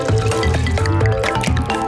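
Water pouring and splashing into a bath, loud and close, with irregular drips and gurgles throughout.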